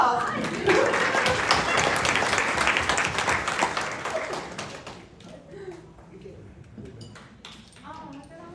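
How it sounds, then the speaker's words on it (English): Audience applause for a staff member at a gathering, a burst of clapping that is loud at first and then thins out to scattered claps, with voices talking over it. "I think he deserves applause."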